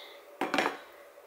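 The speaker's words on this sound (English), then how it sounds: "Let's get your food bowl out of there." A dog's food bowl is picked up and moved, giving a single short clatter of dish against a hard surface, close and brief in a quiet room.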